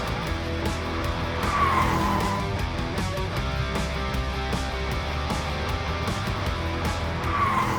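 A Mercedes-AMG S 63 E Performance sedan corners hard with small slides, its tyres squealing and skidding in repeated bursts over a steady engine roar throughout.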